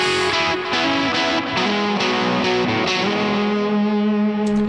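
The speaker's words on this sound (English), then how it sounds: "Just a real gritty guitar tone." A gritty, heavily distorted electric guitar plays a sustained lead line, thick and saturated, with notes ringing into each other.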